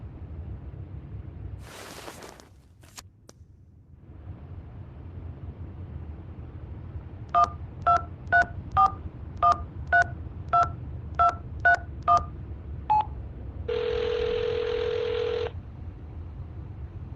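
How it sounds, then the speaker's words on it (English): A telephone number is dialed in a video game: about a dozen crisp, evenly spaced DTMF beeps play alone, followed by a longer steady tone, over a low background hum. "Dial the number."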